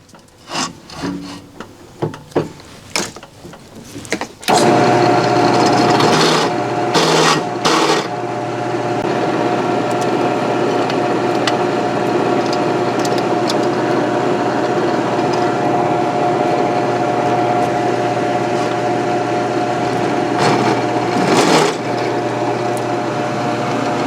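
Chamfering bit cutting along edges for a three-point landscape rake stand, a few scattered knocks and scrapes, then a loud sustained whirring cut with a steady tone, briefly interrupted, running close for most of the time.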